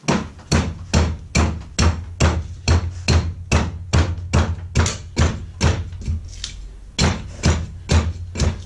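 Steady rhythmic hammer blows, about two per second, striking a chisel into an old oak log, sharp close thwacks with no talking.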